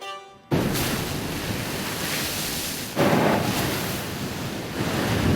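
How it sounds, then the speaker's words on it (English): Foamy Caribbean Sea waves break against the cliffs of Antigua, making a loud rushing roar with heavy wind buffeting. The surges swell again at about three seconds and near the end. "The foamy waves of the Caribbean Sea break over magnificent cliffs on the neighboring island of Antigua"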